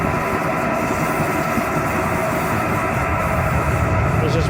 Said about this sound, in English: Everybody wave to the train.